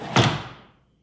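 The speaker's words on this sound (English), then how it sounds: "The ceremony is about to take place, but not until Mr. 96 opens that door." A door is opened with one sharp thump and a short decaying rattle, close and alone, fading to silence within a second.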